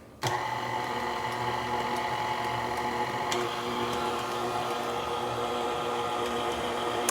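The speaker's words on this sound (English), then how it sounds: "So I'm gonna let the KitchenAid mix up my ingredients, knead them up." A KitchenAid stand mixer kneading pumpkin yeast bread dough on speed 2, a steady close motor hum with a faint rhythmic mechanical ticking, starting abruptly and running unbroken throughout.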